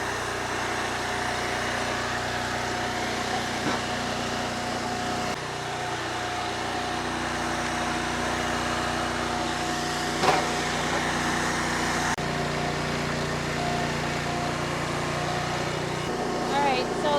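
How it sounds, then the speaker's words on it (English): A log splitter's small engine running at steady idle, a continuous mechanical drone with a few faint knocks and shifts in pitch, not yet fully warmed up. "the splitter's not fully warmed up, but it's as warm as we're going to get it"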